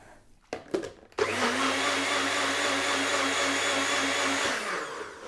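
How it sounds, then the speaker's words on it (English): Blender spinning with water and washing-up liquid to clean the jug, a few clicks and knocks first, then a loud steady motor whir for about three seconds before winding down. "Put it back on the blender."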